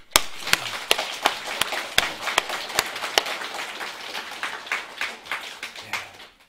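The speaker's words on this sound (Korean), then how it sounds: "하나님 앞에 영광의 박수." A church congregation's applause at a dawn prayer service, many sharp, scattered claps rising into a steady patter, moderately loud and without voices over it.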